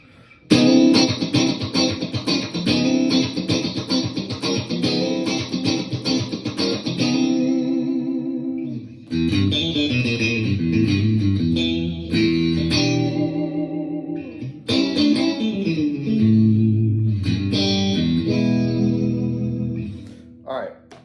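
Stratocaster electric guitar with a Seymour Duncan Twang Banger bridge pickup, all three pickups selected, clean and bright, strummed chords and picked phrases ringing through in several bursts with brief pauses between them.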